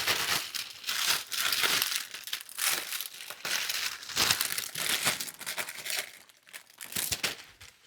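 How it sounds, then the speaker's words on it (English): Sheet of parchment paper being shaken by hand, giving loud, dense crinkling in irregular bursts that rise and fall for several seconds, close up and alone without talking. "I honestly just pick up the parchment paper and shake it. And you probably can't hear me talking because of all the crinkle."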